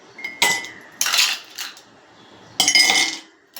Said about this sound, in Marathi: आता ग्लासामध्ये मी बर्फ घालते